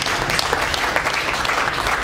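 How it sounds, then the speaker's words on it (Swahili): A church congregation claps together through the whole moment. The applause is loud, dense and continuous, with no break. "Tupigie Mungu makofi vizuri."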